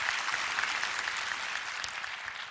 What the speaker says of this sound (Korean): 저희 교회, 여기서 한번 박수 치고 갈까요?